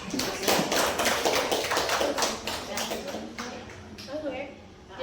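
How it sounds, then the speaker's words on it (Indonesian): An audience claps for a participant at an Indonesian discussion on religious discrimination, with a steady patter of hands for about three seconds that fades as a voice talks over it. "tepuk tangan untuk Eka"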